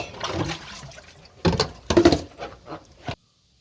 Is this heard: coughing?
no